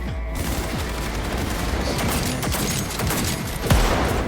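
Sustained gunfire in the video game Cyberpunk 2077, loud and continuous with dense overlapping shots and a heavier blast near the end, filling the whole stretch.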